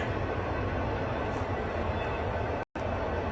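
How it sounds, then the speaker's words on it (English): A train rolls past, a loud, steady broadband rumble of wheels and railcars filling the whole stretch, with a very brief dropout near the end. "we do have trains go by here frequently, but man, there's a lot"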